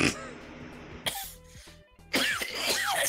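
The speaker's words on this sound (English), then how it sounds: "I still have this cough." A character in the video game Persona 3 Portable coughs in a few harsh, throaty bursts close up, with short pauses between the rough coughs.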